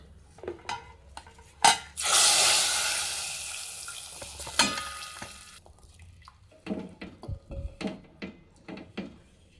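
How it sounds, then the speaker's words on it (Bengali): Chili powder hits hot oil already tempered with panch phoron while a vegetarian banana-flower dal is cooked. A loud hiss rises sharply and fades over a few seconds. Scattered clinks of a metal utensil against the pot come before and after it. "এবারে দিয়ে দেবো একটু লঙ্কার গুঁড়ো এবার এটা ফোড়নে দিয়ে দেবো"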